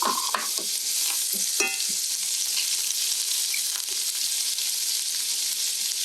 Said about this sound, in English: Now I'm going to get those onions going first.